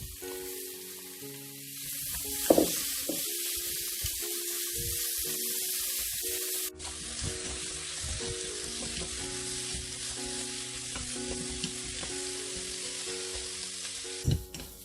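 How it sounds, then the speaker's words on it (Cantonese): Pickled mustard greens are dry stir-fried with a few ginger slices in a wok with no oil, giving a continuous sizzle with stirring scrapes and a couple of sharp clanks, close and unaccompanied by talk. "咁呢個鹹酸菜咧，我哋就白鑊炒一炒，唔好落油"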